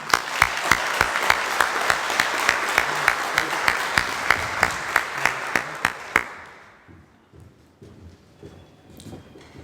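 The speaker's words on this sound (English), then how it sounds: "Please give a round of applause for Charlie Company." Applause rings out for a company of graduates at a leadership school graduation. Loud, sustained clapping carries a strong, regular beat for about six seconds, then drops away to a quiet room with a few stray sounds.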